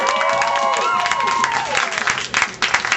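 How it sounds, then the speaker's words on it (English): Studio audience applause at a same-sex dating game show taping, a steady wash of clapping with a few cheers that runs the whole moment, while a host talks over it. "How about a big round of applause for our same-sex love seeker, Babe?"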